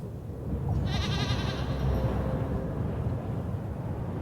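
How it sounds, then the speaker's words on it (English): In a horror video game, a goat gives one drawn-out, quavering bleat that fades over about two seconds above a heavy, rumbling low ambient drone. "Yeah, you never trust a goat in a horror game."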